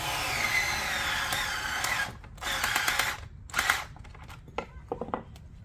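A small screwdriver drives plastic screws into the casing of a Bose Wave Music System radio, giving close, rasping bursts of squeaky turning that start continuous and break into shorter grinding spurts separated by quiet gaps.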